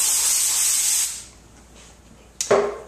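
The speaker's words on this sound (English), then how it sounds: "So I take my brake cleaner and I spray it onto the paper towel." Brake cleaner sprayed from an aerosol can onto a paper towel during engine work gives a loud, steady hiss of about one second, then silence and a short sharp rustle near the end.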